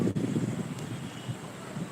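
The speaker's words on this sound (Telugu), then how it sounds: "చల్లటి గాలి వస్తుందండి" Cool wind blowing ahead of a thunderstorm, a steady low rushing roar buffeting the microphone throughout, with no talk over it.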